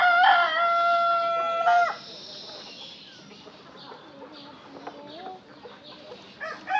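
Desi chickens in a netted poultry farm enclosure: a rooster crows loudly for about two seconds, then hens keep up scattered, softer clucking and short calls nearby.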